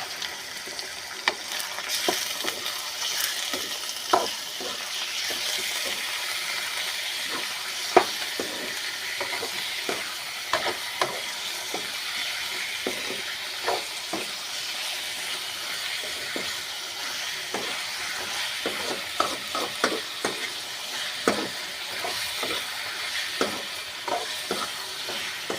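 Chicken fry (varuval) being stirred in a pan: a soft bed of sizzling runs under frequent irregular scrapes and clacks of the spoon against the pan, close by and without speech.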